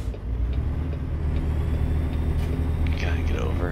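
A truck engine in American Truck Simulator, hauling a dynamite load, drones with a steady low rumble and humming tones throughout, while someone talks over it.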